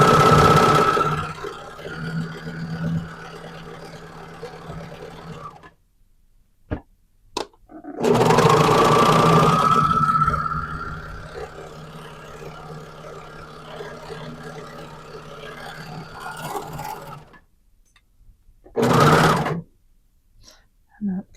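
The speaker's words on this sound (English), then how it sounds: "At the serger, I'm just going to trim off that 1/8 again." A serger trims legging fabric in two long bursts of steady motor whir, each several seconds, with a short final run and quiet pauses between.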